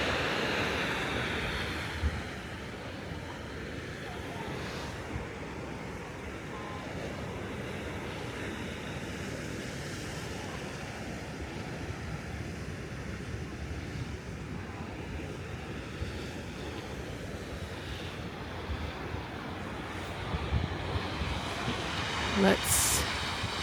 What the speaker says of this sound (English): I keep hearing a booming. Usually that's when the water is going in to the cave area.